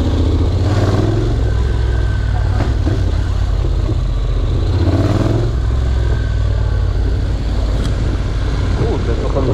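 Motorcycle engine revving, a loud, close, continuous rumbling drone that swells and eases in repeated surges, with a voice speaking over it.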